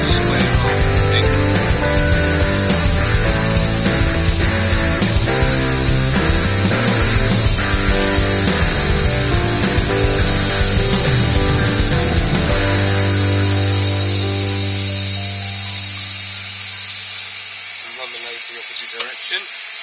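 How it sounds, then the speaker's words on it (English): Woodturning lathe spinning a sycamore platter, a loud tonal whine with steady harmonics that winds down and fades toward the end, with light scraping over it. "So let's get the lathe spinning."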